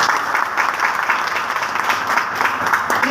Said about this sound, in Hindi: एक बार जबरदस्त ताली होनी चाहिए